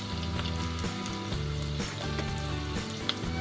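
Onions frying in a pan, turning light brown for kadhi, a steady close sizzle with soft crackling and a low hum beneath, no talking.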